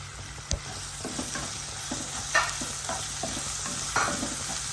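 Finely chopped onion frying in a pan for a tomato masala, a constant close sizzle with intermittent soft spatula stirs and one sharp knock near the start.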